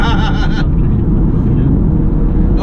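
Inside a 2019 BMW 330i M Sport G20 as it picks up speed: a steady, loud engine and road drone fills the cabin, with a brief tonal engine note at the start.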